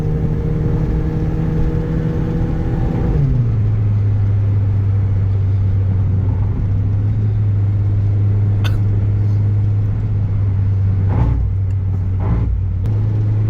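A remapped Toyota Yaris with a 1.5 engine holds a raised rev and then drops to a steady low idle hum, with a few faint clicks and knocks.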